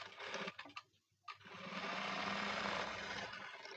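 A sewing machine stitches a blouse in a loud, steady run that stops briefly near the start, then resumes and holds near and continuous, with no talk over it.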